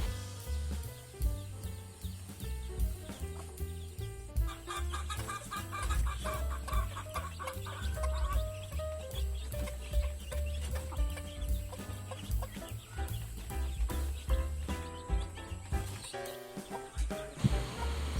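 White hen clucking in a coop with chicks, steady low clucks repeating throughout, fairly faint with other farm fowl sounds mixed in.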